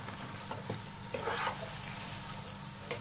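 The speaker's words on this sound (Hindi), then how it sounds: "हमें कीमा को मसाले के साथ भूनते हुए दो मिनट हमें इसे खोल के भूनना है" Minced meat keema fries with spices in a pan over a medium flame, a soft continuous sizzle with occasional stirring scrapes, close but quiet, no voices.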